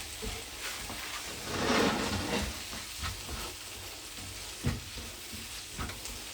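Ketchup, vinegar and sauces stirred together in a hot pan for vegetable cutlets, giving a soft continuous sizzle with a louder hiss swell early on and occasional spoon knocks, no voices.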